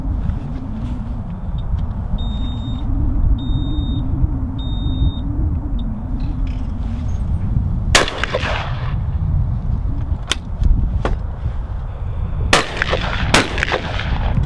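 Shotgun shots fired at clay targets from traps outdoors, several sharp loud reports spaced a few seconds apart over a steady rumbling background with a brief electronic beeping early on.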